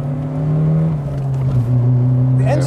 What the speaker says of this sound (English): The engine sounds pretty nice.